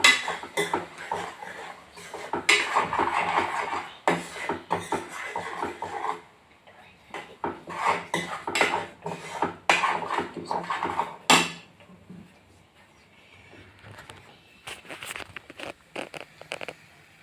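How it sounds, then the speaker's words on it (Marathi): A spatula scraping and clinking in a pan as egg bhurji is stirred and roasted, in close, irregular bursts of metallic rattling separated by brief quiet pauses. "आणि आता थोडंसं मस्तपैकी भाजून घेते."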